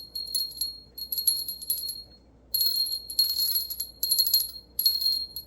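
Small high-pitched bells ring in several short bursts with brief pauses between, clear and close, with faint rustling underneath and no talking.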